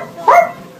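A person voices a single short, loud dog bark imitation, one sharp woof lasting a fraction of a second, close and alone.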